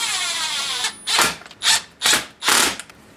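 T20 bolts being driven into a Stihl MS 171 chainsaw: a steady whir, then four short, sharp ratcheting bursts in quick succession, close up and with no voices.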